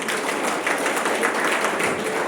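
Audience applause welcoming a college principal at a youth parliament event in Madhepura, Bihar, a dense, even wash of many hands clapping throughout the short stretch.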